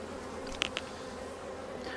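Bees buzz steadily around an open hive being split in spring, a soft continuous drone with a couple of brief sharper clicks near the middle, moderately quiet and close.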